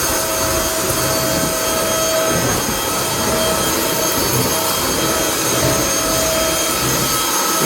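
A cordless vacuum cleaner runs at full speed, its steady broadband roar holding a constant level throughout with a faint tonal whine on top and no talking.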